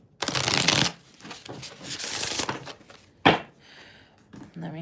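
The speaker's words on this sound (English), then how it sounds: "Let me just shuffle here." Tarot cards being shuffled by hand at close range in repeated riffling bursts, with short pauses and a sharp tap between them.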